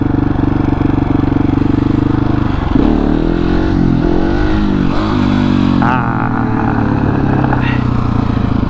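A KTM 701 motorcycle engine revs hard throughout a first-gear wheelie, with loud, close throttle surges, a sudden throttle chop and dip partway through, then renewed revving as the bike settles.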